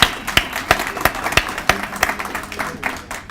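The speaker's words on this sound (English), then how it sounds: "you gotta clap for entrepreneurs, come on" Audience applauding entrepreneurs at an event, a run of sharp separate claps fading into scattered clapping over a few seconds, fairly close, with no talking.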